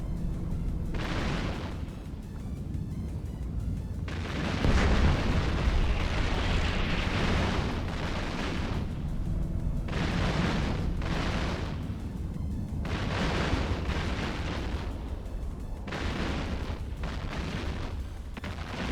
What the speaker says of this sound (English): Shooting going on.